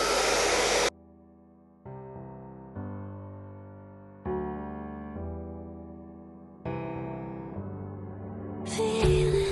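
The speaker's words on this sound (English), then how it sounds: "Then I take my blow dryer on cool air." A hair dryer blowing cool air roars in a short burst, gives way to sustained musical tones, then starts blowing loudly again at the end.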